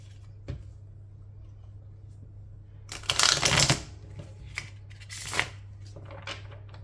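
Tarot cards being shuffled nearby: a few quick papery riffles and slaps, one longer burst in the middle, over a low steady hum.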